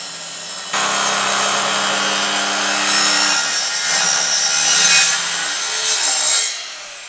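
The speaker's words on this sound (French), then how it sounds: "La scie à onglet est faite pour ça." A miter saw with its blade tilted to 45 degrees cuts through wood flooring: a motor starts up, and a loud, steady rasping cut follows for several seconds, swelling slightly, before it winds down.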